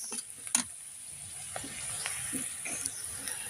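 Chili, onion and garlic sizzle and fry in a pan over a clay stove, a soft steady hiss with scattered small pops and stirring clicks, close by and without talk.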